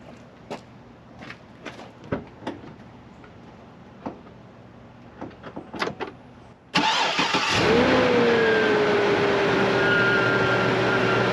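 Chevy C10 with an LS2 engine cranks over and catches, settling into a loud, steady running roar after a few scattered clicks and knocks, with no talking.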